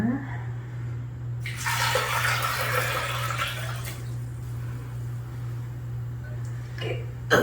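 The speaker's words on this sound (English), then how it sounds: "We're gonna add water." Water pours from a tap into a slow cooker for a lentil potato stew, a steady splashing stream of a couple of seconds that tapers off, over a constant low electrical hum.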